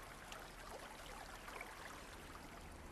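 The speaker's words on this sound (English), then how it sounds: "The Baglan Brook babbles sweetly on its way down the hill" Steady, fairly faint burble of the Baglan Brook running down a hillside past a church, an even wash of flowing water with slight ripples and no voices.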